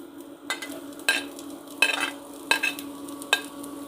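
Carrot fries in hot oil for a chapati noodles dish, with a steady sizzle broken by about five scraping stir strokes at regular intervals, close and fairly loud.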